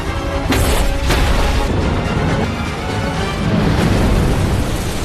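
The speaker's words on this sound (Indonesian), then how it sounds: "si pilot justru meledak karena helikopternya menabrak sebuah jembatan" A helicopter crashes into a bridge: a loud, roaring explosion with a burst of crashing debris, followed by a sustained heavy rumble that fills the whole stretch with no talking.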